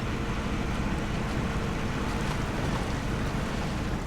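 In Snowrunner, a truck drives at full speed into water with a steady, loud rush of churning water and wind-like roar, continuous and unbroken throughout.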